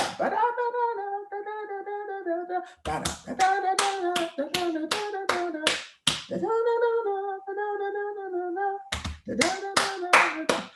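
A choir group at a Leicester Sing for Water event sings in sustained notes, breaking into sharp bursts of unison hand claps in quick rhythmic runs. The singing stops and returns between the clapping sections.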